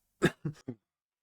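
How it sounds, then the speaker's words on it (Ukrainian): Three short, dry coughs in quick succession from a man with a hoarse voice, close and clear against silence. "у мене тут же почався кашель"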